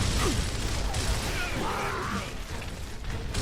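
Weapon reload in the Gears of War video game, a short run of mechanical clicks and clanks sitting under busy game noise and effects.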